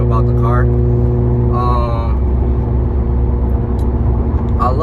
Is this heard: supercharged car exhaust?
yes